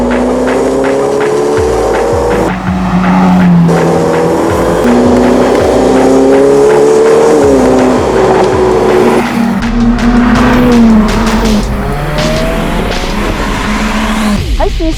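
A Ferrari F8 Tributo's V8 engine accelerating on a test drive, loud and close, with repeated rising revs that climb in pitch, drop at gear changes and climb again, plus a steady low roar throughout.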